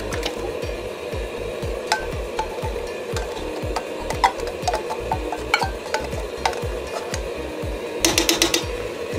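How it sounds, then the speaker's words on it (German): A spoon stirs coconut milk into chicken frying in a wok, making a steady rhythmic scraping against the pan over a continuous sizzle, close up and loud, with a brief clatter near the end. "Einmal gut durchmischen und dann ist das wieder flüssig."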